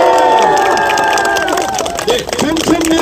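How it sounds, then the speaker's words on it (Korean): A crowd cheers and applauds at an outdoor political press conference in Mapo, Seoul, with loud shouting voices and chanting over scattered clapping, fairly close and busy throughout. "큰 박수."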